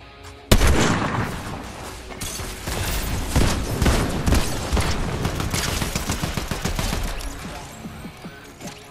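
Gunfire in the video game Fortnite during a ranked match: a sharp loud shot opens a dense, rapid fusillade of cracks and bursts that continues for several seconds before thinning out, with a player talking briefly.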